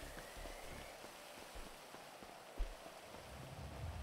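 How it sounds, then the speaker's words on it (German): Steady rain falls in the GTA game world of Los Santos, a soft continuous hiss of drops spread evenly across the whole stretch with one brief thump partway through. "Normalerweise regnet es nie so lange, es ist immer nur ganz kurz."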